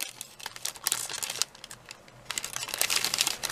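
Small plastic craft garbage bags crinkle and rustle in close handling, making a dense, fairly loud crackling that keeps going without a break and has brief sharper crinkles throughout.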